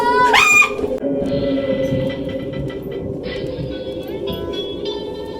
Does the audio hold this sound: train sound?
yes